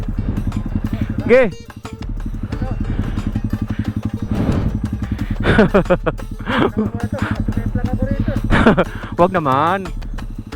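Motorcycle engine revving and labouring on a mountain backroad between Etogon, Benguet and Kapayapa, Nueva Vizcaya, a close, steady rumble with throttle swells throughout while riders talk over it.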